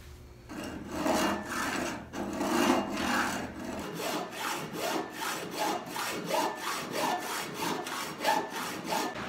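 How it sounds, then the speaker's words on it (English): A hacksaw cutting out a section of a hand-built shoulder plane gives rhythmic back-and-forth rasping strokes, steady and close, with no talk. "I sawed out a section with the hacksaw here"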